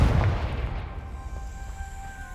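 A Confringo blasting spell explodes in Hogwarts Legacy, one close, loud, deep boom that fades into a ringing tail within about two seconds.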